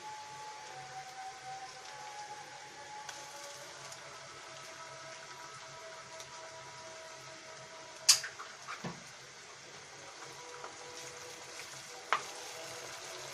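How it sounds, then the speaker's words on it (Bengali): Beaten egg poured over onions frying with ridge gourd in a pan, a soft continuous sizzle with a couple of sharp utensil clinks, quiet and close. "আমরা ডিমটাকে এভাবে একটু ছড়িয়ে দেবো পেঁয়াজের উপরে, দেন আমরা আস্তে আস্তে এটাকে নেড়ে নেব।"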